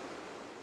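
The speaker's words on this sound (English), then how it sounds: "So this is obviously the waterfall here." A waterfall at Wise Falls gives a steady broadband rushing roar, constant and close, with no other sounds over it.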